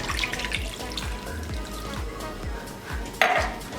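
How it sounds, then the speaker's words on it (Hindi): Water splashes and gurgles into a pan of finely chopped raw mango for chutney, with a steady rhythmic sloshing and a sharp clink near the end. "2 कप इसमें पानी ऐड कर देंगे।"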